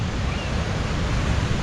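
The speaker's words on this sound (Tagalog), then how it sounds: "Ang laki ng alon." Big waves crash and surge on a beach on an overcast day, a loud, continuous roar of surf close by with no voices.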